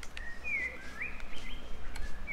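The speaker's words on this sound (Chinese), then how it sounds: "我只听到一堆鸟叫声" Several thin, whistling bird chirps in the game Human Fall Flat sound at a moderate distance over a low ambient hum, broken by a few soft clicks.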